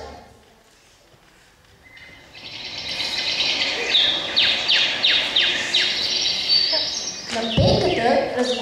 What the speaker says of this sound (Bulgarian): Птичките пеят, казах.